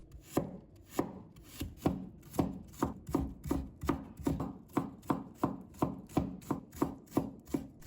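A knife chops fresh ginger into mince on a cutting board, with rapid, steady, evenly spaced thuds and blade taps repeating close up throughout, alone with no talking.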